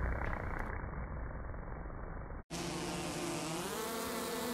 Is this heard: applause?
no